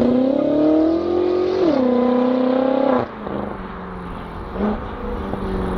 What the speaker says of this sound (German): er gibt einen Kickdown